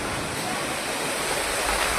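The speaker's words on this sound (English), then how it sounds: "hail pummeled streets" Heavy hail pounds the streets in a dense, continuous roar like rushing water, loud and unbroken for a couple of seconds during a storm in Shandong, China.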